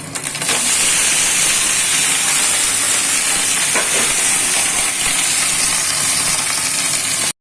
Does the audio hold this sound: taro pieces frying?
yes